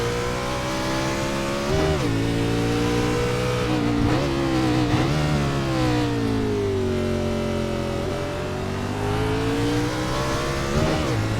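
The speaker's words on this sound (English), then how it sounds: "Down to second gear, hard braking and using the gears to get down there." A race car on a track downshifts to second gear and brakes hard. The engine is loud and close, with sharp throttle blips as the revs drop between gears.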